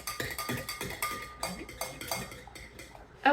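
A Danish dough whisk mixes dough in a bowl, giving quick, repeated clinks and scrapes against the bowl, close and fairly quiet.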